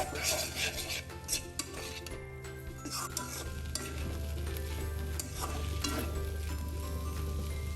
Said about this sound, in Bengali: ক্যাপসিকামটা দিয়ে এখন নাড়া দিব আবারও এক থেকে দুই মিনিট এভাবে করে চুলার আঁচ মিডিয়ামের থেকে একটু বাড়িয়ে নাড়াচাড়া দিব